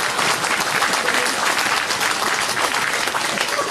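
An audience at a year-end gathering bursts into dense, sustained applause, a loud, even wash of many hands clapping from start to finish, with a voice faintly underneath.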